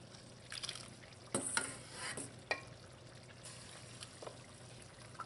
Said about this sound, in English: turn your rice so that it doesn't stick at the bottom